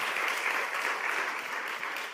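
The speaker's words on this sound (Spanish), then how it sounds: "Denle un aplauso al Señor, por favor." A church congregation applauds for the Lord in a short, steady burst of clapping that stays even and fairly loud throughout.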